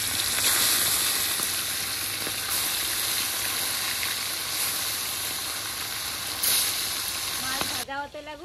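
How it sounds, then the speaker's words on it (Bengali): Pond fish fries in hot oil in a wok, a loud, continuous close-up sizzle with a few sharper spits, and a voice is heard briefly at the very end. "মাছ ভাজা হতে লাগুক"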